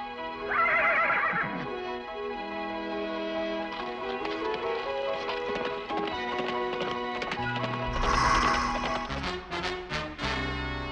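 An animated Western horse whinnies loudly near the start and again toward the end, over a continuous orchestral score, with faint hoof taps in between.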